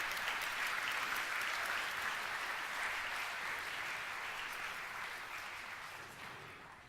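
Steady applause from an audience, many hands clapping densely and evenly, slowly fading toward the end.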